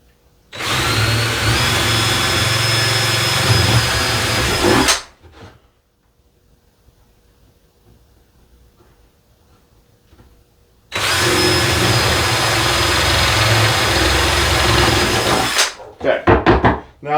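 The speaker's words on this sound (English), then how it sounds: "drill these 2 holes." A power drill bores holes in a leather belt in two loud, steady whirring runs of about four seconds each, separated by near silence and followed by brief clattering handling sounds.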